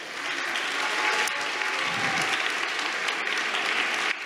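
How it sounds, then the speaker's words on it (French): Audience applause at a university thesis-presentation final, dense steady clapping from a large crowd that stays at an even, loud level throughout before cutting off sharply. "vous pouvez l'applaudir."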